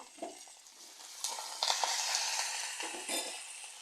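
Spices, peanuts, cumin, curry leaves and green chillies crackle and sizzle in hot oil for tempering, with a few stirring scrapes and clinks of a utensil against the pan; no talking.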